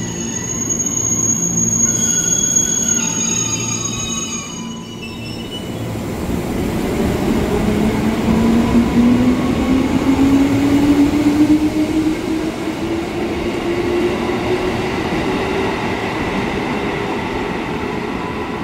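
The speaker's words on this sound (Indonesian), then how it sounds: "ternyata kita dapat KRL CRRC nih ke Jakarta Kota" An electric CRRC KRL commuter train bound for Jakarta Kota runs steadily and loudly, its motor tone rising in pitch as it accelerates, with rumbling wheels and no talking.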